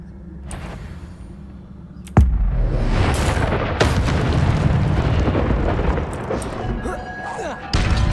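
Incendio fire spell cast in Hogwarts Legacy, a sudden whooshing burst followed by a sustained roaring rumble of flames, loud and close, with a second sharp hit later and voices speaking over it.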